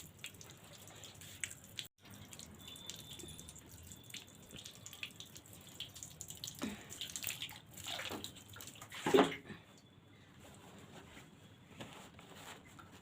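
Water runs and drips indoors in a home, a faint steady trickle with scattered drops and one brief louder splash.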